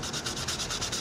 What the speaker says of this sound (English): I'm just gonna give it a quick sanding.